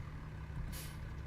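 A truck's air brake being set in Farming Simulator 17, a short sharp hiss of released air over a steady low engine idle, close and fairly quiet.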